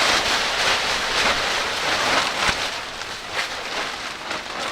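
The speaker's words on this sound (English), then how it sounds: "Yeah, it's cold and wet and raining." Steady rain patters down continuously, a dense, hissing wash of drops with occasional louder splats, no voices present.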